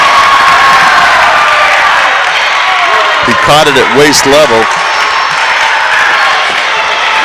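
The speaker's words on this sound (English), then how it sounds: "Proctor fans up and making noise" Fans at a boys varsity basketball championship game between Proctor and MSJ cheer and roar in a loud, steady crowd din, with a commentator talking over it.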